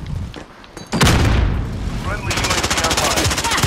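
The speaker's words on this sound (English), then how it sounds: "I hit him directly with a rocket launcher and all I did was a hit marker" In Call of Duty: Modern Warfare, a rocket launcher hit lands as a sudden loud blast, followed by dense, rapid gunfire bursts that stay close and intense to the end.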